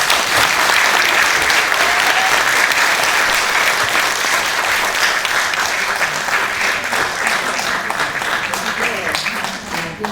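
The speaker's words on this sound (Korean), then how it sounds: "큰 격려의 박수 부탁드립니다" Crowd at a memorial ceremony for Dr. Lee Young-chun breaks into long, steady applause, a dense, loud sheet of clapping lasting about ten seconds and fading slightly at the close, with faint voices underneath.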